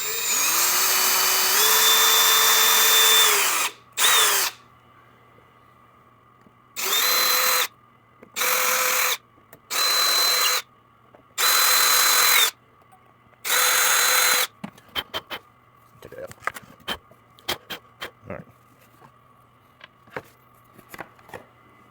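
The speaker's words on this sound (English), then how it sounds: "So I'm just going to drill some holes." A power drill with a 5/64 inch bit drills pilot holes in a maze kit project. It makes a long first whir and then several short, loud bursts, followed by quieter clicks and handling noises.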